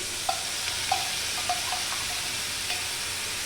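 A wet spice paste of chilli powder, salt and turmeric fries in a pan for a bhetki fish-bone chachchari, giving a steady sizzle with a few light clicks of stirring, close and moderately loud, with no voices.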